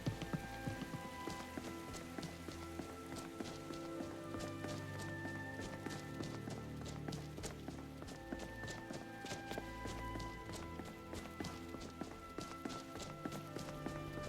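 Rain falls steadily in the video game Skyrim, a continuous dense patter of drops, with soft irregular taps like footsteps mixed in throughout.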